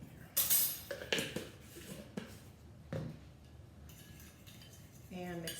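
Powdered peanut butter stirred into a sauce for vegetarian rice paper rolls, with a few sharp clinks and scrapes of a utensil against a bowl, fairly quiet and close, and a voice speaking briefly near the end.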